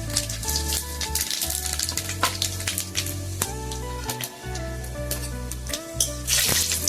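Bay leaf, dry red chilli and panch phoron spices crackling and sizzling in hot oil in a pan, a steady close fry with small pops and occasional stirring, no voices.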